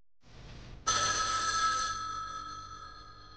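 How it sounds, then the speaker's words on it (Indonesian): A hotel room telephone rings with a bright, steady electronic bell tone that starts abruptly and rings on loudly, following a softer hiss just before it; no voices are heard. "Tiba-tiba telepon di kamar berdering"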